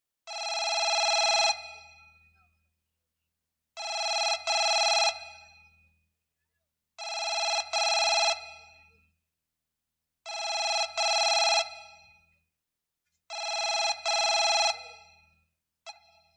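A telephone bell rings in five long bursts with even pauses between them, loud and alone, and a sixth ring is cut off at the end.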